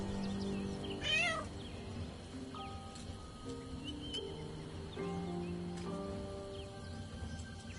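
A cat meows in the Baldur's Gate 3 video game, a short mewing call rising over a steady ambient music and environmental bed, with faint tonal game sounds continuing afterward.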